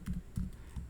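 Three quick, soft keystrokes on a computer keyboard sound close and quiet, evenly spaced, with no voices.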